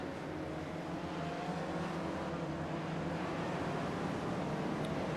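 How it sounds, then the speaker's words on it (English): Porsche 911 pace car in a racing video game accelerating hard, a continuous engine drone held at moderate level throughout with no voices. "whoever's behind the wheel of that Porsche 911 pace car, he's got his foot in it tonight"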